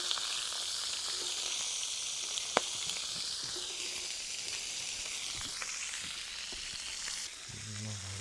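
Burger patties frying on a hot cooking surface, with buns toasting alongside: a steady, even sizzle and crackle that carries on unbroken and unaccompanied by talk.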